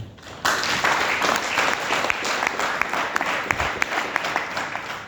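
An audience at a performance enhancement talk claps together in a dense, steady round of applause that starts abruptly and carries on evenly at close range.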